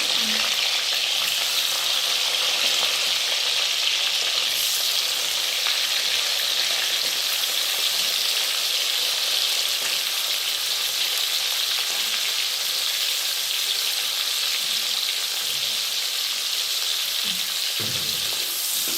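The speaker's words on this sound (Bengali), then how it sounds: "তো পেঁয়াজগুলো আগে আমি ভেজে নেবো কড়াইতে।" Onions fry in a kadai with a loud, steady, unbroken sizzle close up, with faint stirring sounds now and then.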